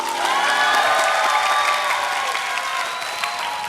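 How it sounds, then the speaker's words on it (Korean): A studio audience gives a lecturer sustained applause at the end of a talk on a Korean television lecture show, dense clapping and some cheering that holds steady for several seconds, with faint tones underneath. "다시 한번 큰 박수 부탁드릴게요"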